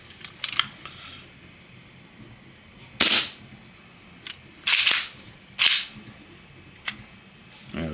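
A budget gas blowback airsoft gun fires in sharp, loud cracks: a few spaced single shots and then quick paired double taps, each snap short and crisp over a quiet background.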